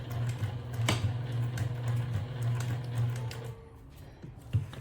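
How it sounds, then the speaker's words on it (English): A sewing machine hums steadily at close range, a low motor drone with faint mechanical ticking, pausing briefly near the end. "So let's go to the sewing machine. So I'm going to start to sew."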